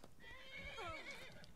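Horse in the video game Skyrim giving a quiet, wavering whinny, one rising and falling neigh lasting about a second with no speech over it.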